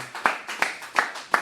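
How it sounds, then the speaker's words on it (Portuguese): A church congregation standing and clapping in praise, four distinct, evenly spaced claps in a slow rhythm, each crisp and moderately loud against a quiet background. "Vamos ficar de pé e dar uma linda salva de palmas para Jesus"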